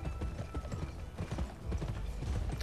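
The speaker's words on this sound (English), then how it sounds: "Is this your house, Mr. Horse?" Horse hooves clip-clop steadily in the video game Gun, a busy rhythmic patter mixed with game background sound and no talking.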